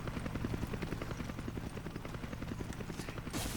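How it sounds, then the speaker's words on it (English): Helicopter in the video game Resident Evil 5, a steady rapid rotor chop with a low engine drone filling the whole stretch, loud and continuous with no talk over it. "I got a feeling this helicopter's gonna go down."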